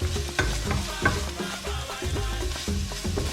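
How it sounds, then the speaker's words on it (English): Onion fries in a pan for homemade pasta sauce, a close continuous sizzle with rhythmic scraping and clacking stir strokes every half second or so, no talking. "I'm adding the onion into my pan"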